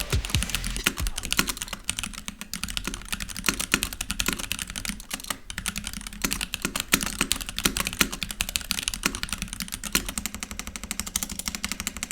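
Keystrokes on an NK87 custom mechanical keyboard with pre-lubed stabilizers, a dense, steady clatter of clicks and thocks that runs near and loud throughout with no talk.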